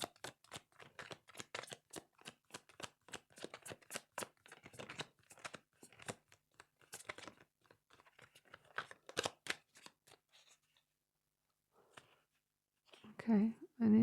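Tarot cards shuffled by hand, a long run of quick crisp riffling and flicking strokes in uneven bursts, close and fairly soft, fading to near silence before a few louder handling noises at the end.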